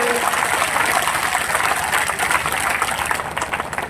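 Dense, loud crowd clapping at an outdoor election rally in India as a candidate arrives, a continuous broadband wash of many hands sustained throughout without a break.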